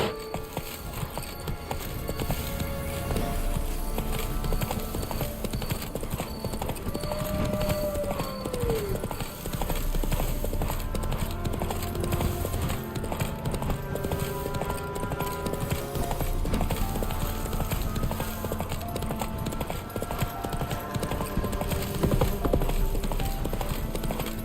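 In The Witcher 3 on PS5, a horse's hooves clop steadily and rapidly at a gallop throughout, with game ambience, occasional snorts and faint speech in the background.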